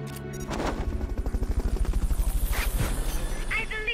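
A helicopter's rotor thumps in a rapid, steady rhythm, loud and close, with a synthetic game-like quality and some sharp effects layered on top.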